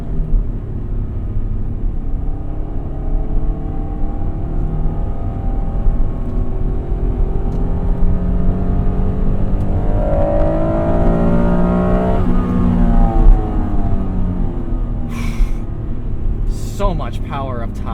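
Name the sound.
1996 Acura NSX engine accelerating while driving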